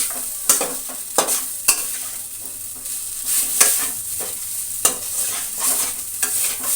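Poha is mixed in a frying pan with a spoon, giving sharp repeated scrapes and knocks at an uneven rhythm over a soft background sizzle, close and fairly loud.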